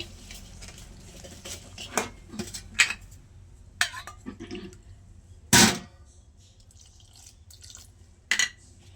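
Ragi dosa batter is stirred in a bowl as water is added, heard as irregular close clinks and scrapes of a spoon, a loud sharp knock midway, and faint dripping in a quiet kitchen.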